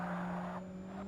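A race car's blow-off valve in Forza Motorsport, Low-Power Open series, releases a breathy whoosh over a steady engine drone, fading after about half a second while the motor hums on.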